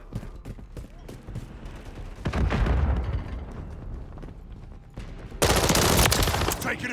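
Gunfire in a shooter video game, with bursts of rapid automatic shots and single cracks building into a heavy, sustained volley near the end, under occasional voiced game announcements.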